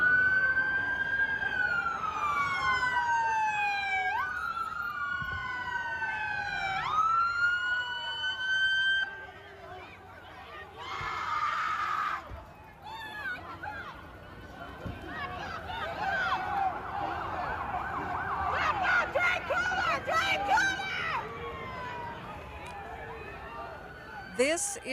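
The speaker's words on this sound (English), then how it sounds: "this audio does contain sirens." Wailing sirens sweep up and down in repeated cycles, then give way to a steady horn-like blare and more siren bursts, with traffic rumble throughout.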